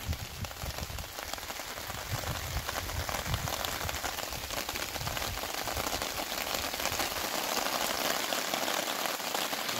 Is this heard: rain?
yes